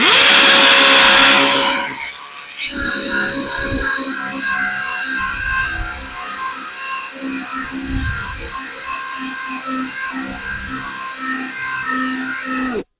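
A Grosser GCD 161KBT cordless drill with a 13 mm chuck, rated at 160 Nm, bores a 10 mm hole, its motor whining loudly at first, then labouring and grinding unevenly as the bit bites and slows.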